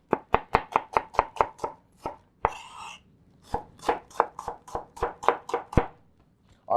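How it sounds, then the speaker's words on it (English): A knife julienning a vegetable on a cutting board gives quick, even, close-up chops in bursts, broken by a brief scraping sound between runs. "what we're going to do is we're going to julienne it."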